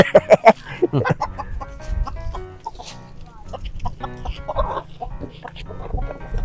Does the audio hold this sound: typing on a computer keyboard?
no